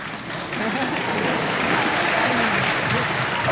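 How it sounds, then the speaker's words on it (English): A medium-sized round of applause rises from the Menoptera faction in a Doctor Who fan festival hall in London, steady massed clapping that swells after a quiet start and carries on throughout. "a medium-sized round of applause there. That's the Menoptera faction."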